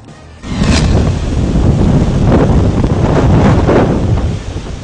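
Powerful typhoon wind from Typhoon Yolanda roars and buffets the microphone without letup, a loud, rushing gale that swells and gusts throughout.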